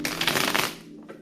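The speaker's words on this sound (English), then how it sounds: "Two more shuffles, please." Tarot cards riffle-shuffled in a rapid, crackling flutter lasting under a second, then a brief soft flick of cards.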